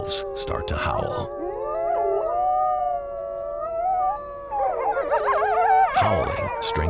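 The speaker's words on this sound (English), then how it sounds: "the wolves start to howl" A wolf pack howls in the wild near a swamp, several long, overlapping rising and falling howls close by, growing into a denser chorus near the end.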